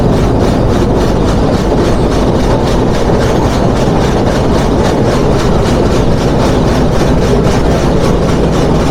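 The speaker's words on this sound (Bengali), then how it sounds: "আন্তনগর রূপসী বাংলা এখন বুলেট ট্রেনের গতিতে রাইট টাইমে।" The Ruposhi Bangla Express intercity train runs at speed on its Dhaka to Jessore route, a loud, steady rumble of wheels with a continuous rhythmic clickety-clack heard from on board.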